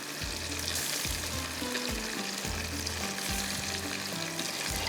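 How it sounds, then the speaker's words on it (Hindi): Fish frying in hot oil, a dense, loud and continuous sizzle heard up close, with a low rhythmic hum pulsing beneath it and no speech. "चलिए इसको करते हैं फ्राई फिश को"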